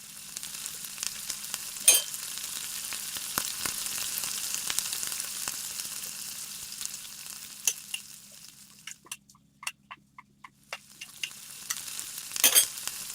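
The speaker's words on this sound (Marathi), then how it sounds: "त्यानंतर आपण मैदा घालून तो परतून घ्यायचा आहे." Sweet corn and maida flour are stirred and sautéed in a pan over a low flame, giving a steady soft sizzle with occasional scraping clicks, close and quiet, briefly dying down near the end.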